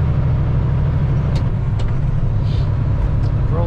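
A heavy truck hauling a 105,000 lb tunnel boring machine load labors with a deep, steady engine drone, loud and continuous, with faint hissing bursts over the rumble as it struggles to pull under fuel restriction.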